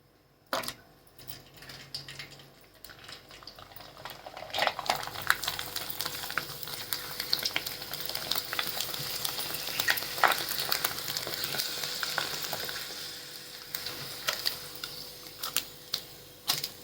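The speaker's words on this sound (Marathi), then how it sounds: "आता पापड तळून दाखवते तुम्हाला" Steamed rice papad fries in hot oil on a gas stove, building into a loud, dense crackling sizzle full of rapid ticking pops that swells and then eases slightly, heard up close with no speech.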